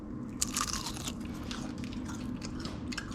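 Crisp crunching bites and steady chewing of crispy air-fried bacon strips, close and clear, repeated sharp crackles over about three seconds with no talking.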